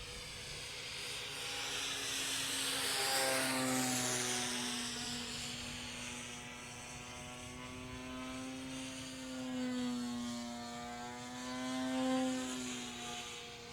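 A Ki-44 model airplane flies overhead at maximum revs, its engine giving a sustained buzzing whine that swells and fades as the aircraft passes nearer and farther, with no talking.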